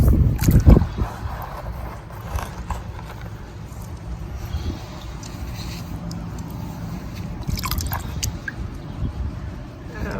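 Gemstone paydirt being stirred in water, heard as close sloshing and scraping of stones with an irregular, rough texture, starting with a louder knock and continuing under faint background noise.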